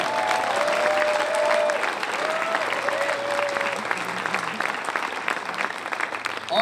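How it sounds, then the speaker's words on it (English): A crowd at a high school and tech center grand opening applauds a construction partner, with steady clapping lasting several seconds and a faint voice or whistle-like tone briefly audible beneath it early on. "Please join me in giving them a huge round of applause."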